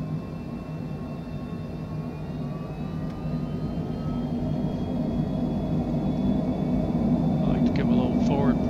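Twin engines of a Cessna Longitude business jet in a flight simulator spool up for takeoff, a steady rumbling roar that grows slowly louder, with a rising whine layered above.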